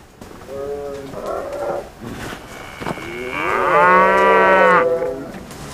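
A cow moos loudly and close by: a shorter low call, then a long drawn-out bellow that swells and fades, with no talk over it.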